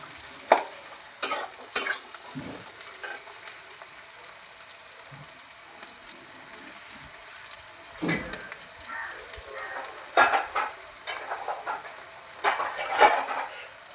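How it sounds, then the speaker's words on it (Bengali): Chopped onions frying in a pan, with steady sizzling and repeated scraping, stirring strokes of a utensil against the pan, some sharper clinks in bursts, close up and without talk. "পেঁয়াজগুলি ভাজা হোক ওখানে।"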